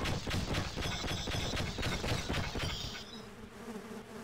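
A swarm-like buzzing from the bees weapon in the Sven Co-op game fires in rapid pulsing bursts, loud and continuous, then gives way to a lower hum.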